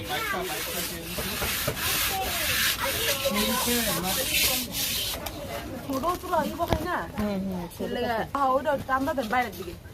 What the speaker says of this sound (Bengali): পাতিলের ভিতরে মাটি মাখা হইতেছে যাতে কালি না পড়ে